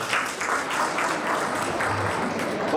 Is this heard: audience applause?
yes